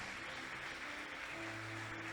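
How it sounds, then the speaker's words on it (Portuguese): A church congregation applauds in a dense, steady wash of clapping that fills the room at an even level throughout, with no pauses. "Vamos aplaudir ao Senhor, bem forte,"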